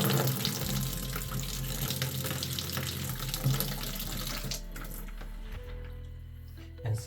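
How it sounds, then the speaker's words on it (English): Water pours out as a Fernox TF1 central heating filter is opened and its insert lifted by hand, a steady splashing gush that runs continuously and eases somewhat toward the end, close by. "then all the water comes out."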